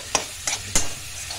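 Keema being stirred as it fries in a pan, with three distinct scraping strokes of a utensil over a low sizzle, close and fairly quiet.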